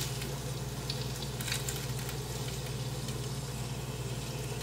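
Bacon frying in a pan for breakfast, a steady close crackling sizzle that holds at an even level throughout, with no talk.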